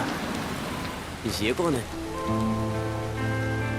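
Steady rain falls throughout a scene in a Hindi-dubbed movie. A brief spoken question cuts in partway through, and then a musical score swells over the continuous hiss of the rain.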